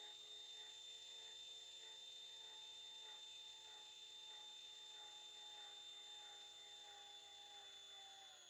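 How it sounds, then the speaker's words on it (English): A small drill boring slowly into a plastic gel blaster T-piece, a steady high whine that holds close and alone for the whole stretch. "I'm going to carefully drill into these two holes I've marked."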